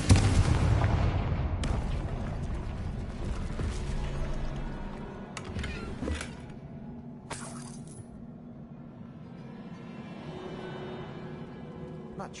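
A fire-spell blast in the Hogwarts Legacy video game: a loud, booming burst at the start, then crackling and rumbling debris with a few sharp cracks as it fades.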